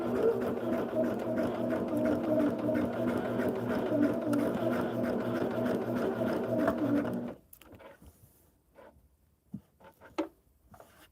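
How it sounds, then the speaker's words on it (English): Sewing machine running steadily through a quilt's seam allowance, a close, even rapid stitching hum that stops abruptly, followed by faint handling noises. "I'm going to stitch in the seam allowance"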